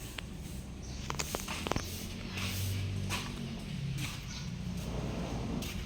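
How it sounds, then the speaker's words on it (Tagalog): Several dogs nearby, with soft yips and whimpers, footsteps and a few sharp knocks, over a steady outdoor wind-like hiss. "Dami naming aso."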